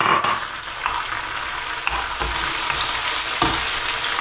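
Tomato frying gently with golden onion in a pan for a Catalan sofregit, a steady close sizzle and crackle with a few stirring scrapes, no voices.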